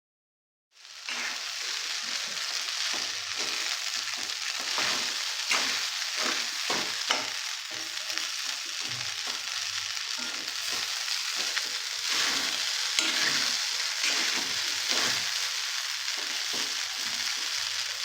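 Idli upma being stirred in a frying pan gives a steady sizzle with repeated scraping strokes of a spatula, continuous and fairly close for the whole stretch, no talk.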